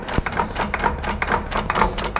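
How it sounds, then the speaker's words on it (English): A Harley-Davidson trike drive disc is rocked back and forth by hand, producing a quick run of repeated close mechanical clunks and knocks from the backlash in an over-tightened drive casing. "If I grab this disc, go backwards and forwards, listen to that backlash"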